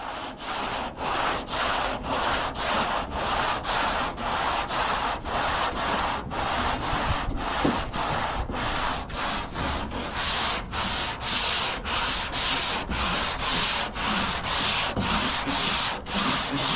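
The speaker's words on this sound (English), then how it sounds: "I'm gonna show you how I'm gonna be block sanding it. I'm gonna be using 180 grit" Steady rhythmic scraping of a sanding block with 180-grit paper worked back and forth by hand over a 1986 El Camino door, loud and close, continuing without pause for the whole stretch.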